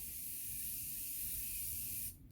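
A close, steady hiss of Patrick Starrr One/Size Go Off makeup remover being sprayed from its bottle in one continuous burst of about two seconds that cuts off abruptly.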